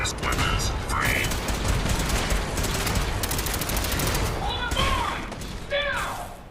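Dense, continuous video game gunfire in rapid bursts runs throughout, with electronic beeps and tonal alarm chirps over it.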